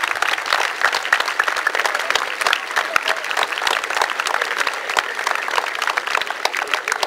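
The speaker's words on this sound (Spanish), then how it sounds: "Un fuerte aplauso para el presidente" A crowd claps for the municipal president, Cipriano Charrez, at a book-donation ceremony at CECYTEH Ixmiquilpan, Hidalgo. Dense, crackling applause runs for about seven seconds without pause.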